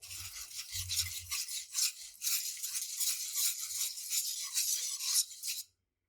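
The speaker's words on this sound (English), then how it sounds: "the next step is to add your Parmesan cheese and whisk away until it's nice and melted" Wire whisk stirring Parmesan cheese into a pan of Alfredo sauce, a steady close scraping and rattling against the pan that runs continuously for several seconds, then stops abruptly, with no talking.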